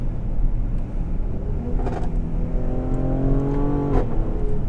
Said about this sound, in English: It sounds like a sports car, and those gear shifts sound wicked.